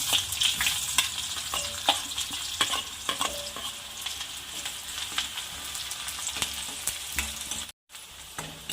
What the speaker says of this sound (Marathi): मोहरी ॲड करते जिरं आणि कांदा बारीक कट केलेला